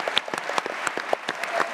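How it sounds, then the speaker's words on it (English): An audience claps in a dense patter of applause in a newsroom gathering, a steady burst of many hands at moderate distance with no distinct voices. "Give him a round of applause."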